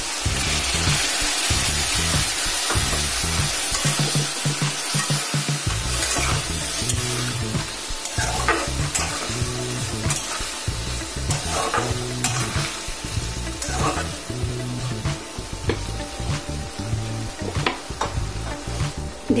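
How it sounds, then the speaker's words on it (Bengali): Potato, papaya and tomato pieces frying in a pan, giving a constant loud sizzle broken by repeated scraping stirs throughout, with no voices. "দেখুন আলু, পেঁপে আর টমেটো যখন এইভাবে ভাজা ভাজা হয়ে আসবে"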